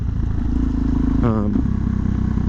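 A Suzuki DRZ400 motorcycle fitted with a Yoshimura exhaust idles with a steady low engine rumble, and a brief rev swells and falls midway through.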